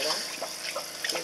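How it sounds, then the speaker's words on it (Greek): A small 12V pump powered from a camper's cigarette lighter draws clear river water through a hose, giving a steady watery trickle and splash close by with a few brighter spurts. "έχουμε μία αντλιούλα, το βάζουμε στον αναπτήρα"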